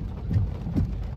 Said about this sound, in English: As y'all can see, it's a pretty rainy day.